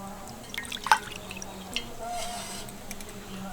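A young bottle gourd being washed under water, with a few distinct close drips and small splashes over a low steady hum, quiet and sparse.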